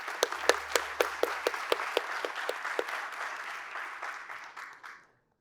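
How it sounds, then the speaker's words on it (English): Applause at an investors' meeting session as a minister is introduced, starting with a few sharp distinct claps that blend into a crowd clapping, then thinning and fading out toward the end. "Please give him a round of applause."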